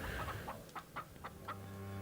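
Chickens in a livestock room in the horror game Rule of Rose cluck in a handful of short, soft calls spaced about a quarter second apart over a low steady hum.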